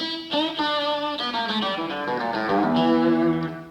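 An electric guitar played through the bridge pickup alone, a run of bright, wiry sustained notes with rich harmonics, loud and close, several notes changing across a short phrase with no talking.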